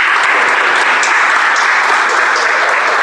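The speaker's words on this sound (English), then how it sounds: "Let's have a round of applause for our speaker one more time." A meeting audience gives a speaker a round of applause, dense steady clapping filling the room at a loud, even level throughout.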